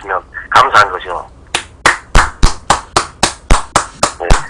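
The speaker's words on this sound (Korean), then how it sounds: "응원의 박수라도 보내주시면 감사한 거죠." After a brief spoken phrase, one person claps alone on a live broadcast, about ten sharp, close hand claps in an even, deliberate rhythm.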